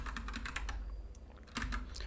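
Fast bursts of clacking on a computer keyboard while code is being set up, a run of quick keystrokes, a brief pause, then another flurry, close and fairly quiet, with no talking.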